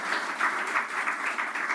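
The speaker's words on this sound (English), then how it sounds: "Can you please join me in giving him a resounding round of applause?" Brief applause from an audience at a Zenith Bank UK branch opening in Manchester honoring the bank's founder, a soft, even patter of clapping heard at some distance for under two seconds.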